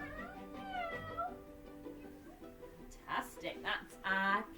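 Children at a kids' yoga session imitate a cat with voiced meows, a few soft drawn-out calls followed by a louder burst of several short meows near the end.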